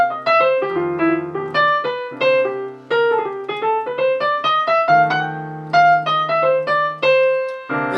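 A jazz blues piano plays a chromatic 3-2-5-1 progression, clear sustained chords moving step by step in a steady rhythm, alone and loud.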